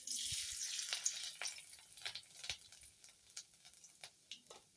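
Garlic sizzles in hot oil with cumin and mustard seeds for garlic methi, a steady bright crackle with sharp popping bursts and occasional spoon clinks close by.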